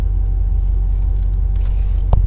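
A Corvette backing slowly into a driveway, its engine a deep steady low rumble up close, ending in a short sharp knock.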